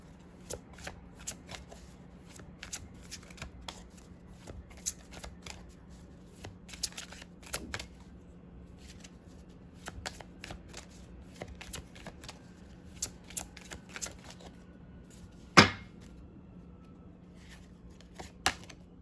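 Oracle cards are shuffled by hand in a quiet room, with soft riffling and light slaps of card stock recurring in short bursts and one sharper snap near the end.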